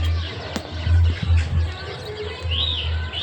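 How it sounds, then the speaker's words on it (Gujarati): Parrots call around a rooftop in Amreli at sunset, with short chirps and a bright whistled call against a steady low hum and light background noise. "પોપટ બોલે છે આજુબાજુ"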